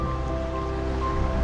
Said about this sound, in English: A lot of volume of water coming through.